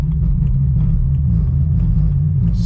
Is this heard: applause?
no